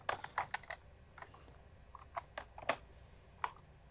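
An activity name being typed on a computer keyboard in short, irregular bursts of crisp key clicks with pauses between, quiet and close, with no talk.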